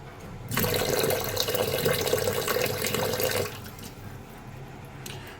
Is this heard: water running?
yes